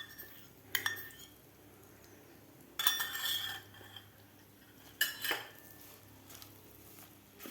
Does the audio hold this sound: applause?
no